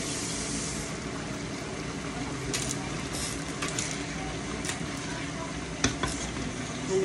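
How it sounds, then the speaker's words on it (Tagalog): Beef tapa fried rice stirred in a hot pan, a steady close sizzle of frying with scraping spatula strokes and occasional clacks against the pan throughout. "Halo-haloin na po natin."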